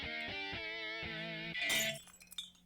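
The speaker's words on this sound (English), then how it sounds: "The sound effect too for the shatter." A video game trailer intro plays a rising tonal musical build that ends in a loud glass shatter, followed by scattered tinkling fragments fading away. No one talks.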